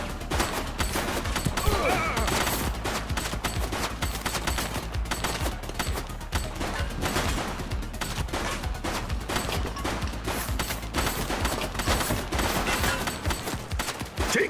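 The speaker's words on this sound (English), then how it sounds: "She's shooting!" Sustained automatic gunfire fills a police open-world video game shootout, with dense overlapping bursts of shots rattling loudly and continuously, no pauses, under a busy game soundscape.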